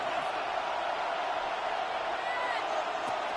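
An American football stadium crowd roars on third down, a dense, steady wall of cheering and noise that holds at the same loud level throughout.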